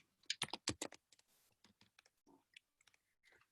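Rapid bursts of typing on a computer keyboard, loud clustered clicks early on and then sparser, quieter keystrokes, heard close with no talk.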